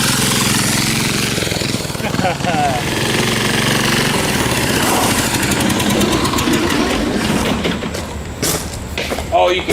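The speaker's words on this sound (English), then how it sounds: "Oh, you can hear the turbo like whirring Winding down." Turbocharged 10HP diesel go-kart engine running loud and close, its rough clatter joined by a rising then fading turbo whine as it winds down, with people talking over it.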